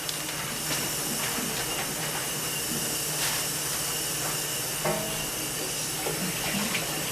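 Water runs steadily from a kitchen tap, a continuous broadband hiss that holds at an even level throughout, with faint clinks of kitchen activity mixed in.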